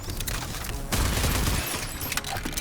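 Heavy-recoil gun firing in the game Wasteland, a dense burst of sharp loud shots with a booming blast near the middle, close and alone without talk.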